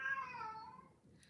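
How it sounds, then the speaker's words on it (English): A domestic cat gives a single drawn-out meow that slides downward and fades, fairly faint and heard alone over a low room hum. "Y'all hear that cat?"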